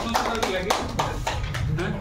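Brief applause in a fisheries training hall, a few scattered claps with talk mixed in, fairly close and moderate in volume.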